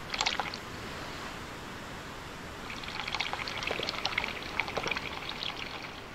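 Water spilling and pouring in a sailing simulator video game, a short splash at the start, then a steadier trickling, splashing pour over a constant low background hiss.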